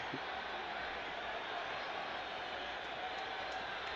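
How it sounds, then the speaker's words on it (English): A football crowd at a Dynamos match roaring in a steady, distant, faint wash of noise with no clear peaks. "the crowd is furious"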